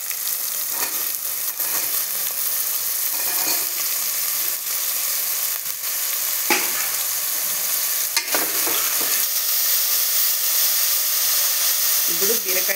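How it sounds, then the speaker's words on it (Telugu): Ridge gourd pieces added to onion and tomato fry in hot oil with a steady, close sizzle, broken by occasional scraping stirs of a spoon in the pan. "బీరకాయ ముక్కలు అంతా పచ్చివాసన పోయే వరకు బాగా ఉడికించుకుందాం"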